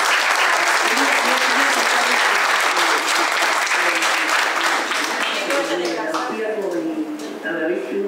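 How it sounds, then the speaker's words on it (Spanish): An audience at a workplace health conference applauds, loud sustained clapping that thins toward the end as a voice begins speaking over it. "vamos a darle un aplauso"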